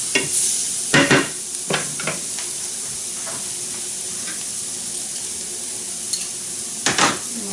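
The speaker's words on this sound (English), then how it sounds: "I'm going to do just another little pat of butter to help that saute" Garlic and butter sauté in a pan for shrimp and grits, a steady close sizzle with a few sharp stirring scrapes near the start and again near the end, and no talking.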